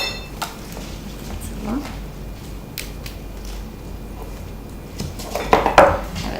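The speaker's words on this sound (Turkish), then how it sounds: "Sarımsaklarımız burada. Tuzla beraber ezeceğiz." Garlic cloves crushed together with salt in a kitchen, a few scattered scraping and knocking sounds building to a louder cluster of crunching, clinking strikes near the end, close and fairly quiet overall.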